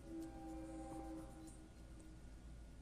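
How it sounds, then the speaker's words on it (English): A distant train rumbling past with a low steady drone and a faint tonal whine, quiet and far off. "of course, then a train comes by."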